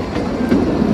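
Kalka–Shimla toy train rolling past a station, a loud close rumble of wheels on rails with a faint clatter, brief and steady.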